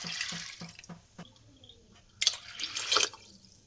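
Water is poured from a cup into a pot of sago for mango sago payasa, three cups' worth. Soft clinks and drips come first, then two louder splashing pours close by.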